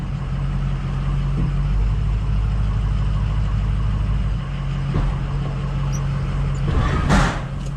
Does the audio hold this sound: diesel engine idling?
yes